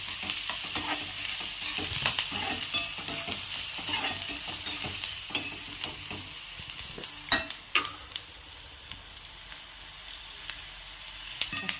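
Ingredients already seasoned with salt and turmeric sizzle in oil for Khandeshi-style poha, with a steady frying hiss broken by repeated scraping stirs and a few sharper clacks near the end, close and moderately loud.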